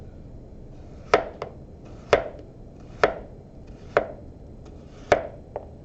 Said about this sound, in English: when you're dicing everything